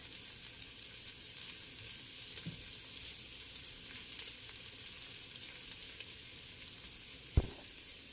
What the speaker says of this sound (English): And I'm going to add my garlic. I've got some minced garlic in here. And I'm just going to stir it around for about 1 minute.